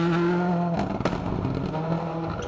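A Ford Escort Cosworth rally car on a forest stage of the Cambrian Rally drones with a steady engine note, then pops and crackles as it shifts, the tone shifting as it passes at moderate distance.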